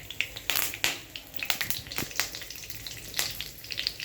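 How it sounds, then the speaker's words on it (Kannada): Mustard seeds and curry leaves sizzling in about three tablespoons of hot oil for a tempering, a steady frying hiss broken by sharp, irregular crackles and pops spread across the moment. "ಎಣ್ಣೆ ಹಾಕಿಟ್ಟಿದ್ದೀನಿ, ಒಂದು 3 ಟೇಬಲ್ ಸ್ಪೂನು. ಸಾಸಿವೆ ಹಾಕ್ತಾಯಿದ್ದೀನಿ"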